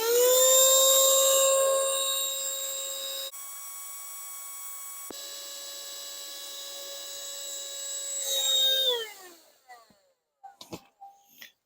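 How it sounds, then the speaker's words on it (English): An electric inflator pumps up a thick camping mattress, giving a loud steady droning whine that drops in pitch partway through, then cuts off and leaves a few soft handling noises. "Let me pump it up for you guys to see. And I'm using this inflator."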